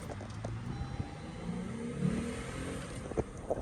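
A 2013 Lexus GS 350 Sport Luxury sedan accelerates on a test drive, its engine giving a steady, moderate rumble from inside the cabin with a slight rise in intensity and no talk over it.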